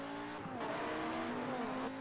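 A V10 race truck engine in a racing video game hums and revs close by in a steady, rising tone with no voices.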